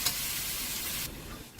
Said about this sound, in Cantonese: 落去炒佢一陣